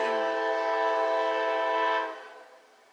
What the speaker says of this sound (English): excuse the noise, it's a train going past y'all